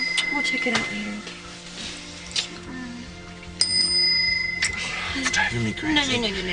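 A bicycle-style bell rings indoors, a couple of quick bright rings followed by a longer one, with people talking around and over it.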